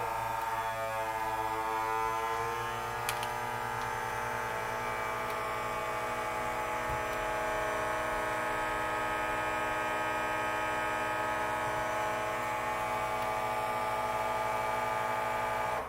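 A vacuum sealer pumps the air out of a bag of raw meat, making a constant electric motor hum that drones evenly for the full sixteen seconds at moderate, close volume.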